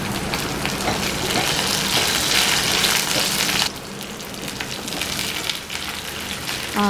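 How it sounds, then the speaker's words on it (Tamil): Sliced brinjal sizzling in a hot pan after onions have softened, a loud steady crackle throughout that drops a little partway through, with no talking. "இப்போது கத்திரிக்காய் வெட்டி வச்சுருக்க கத்திரிக்காவை வந்து நான் சேர்த்துக்கிறேன்"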